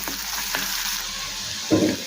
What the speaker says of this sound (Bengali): পেঁয়াজটা যেন হালকা লাল করে ভেজে নেব